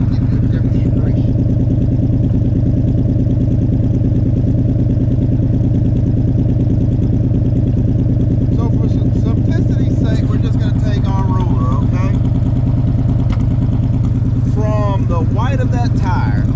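A 1972 Dodge D100 pickup fitted with a bolt-on exhaust kit idles steadily, a loud, even low rumble that continues throughout while someone talks over it in the latter part.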